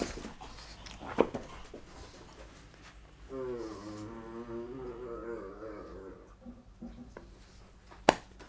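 A pug puppy whimpers in a high, wavering whine that rises and falls for a few seconds, close to the microphone, framed by a couple of sharp knocks before and after in an otherwise quiet room.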